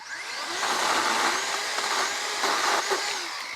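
A Toro 60V Flexforce cordless pole saw cuts through tree branches, a loud steady high-pitched motor whine with chain rasp, swelling slightly as the blade bites, with no talking.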